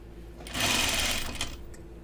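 A sewing machine stitches a coat in one fast continuous run of about a second, starting abruptly and then easing off, with a quiet room hum around it and no talking.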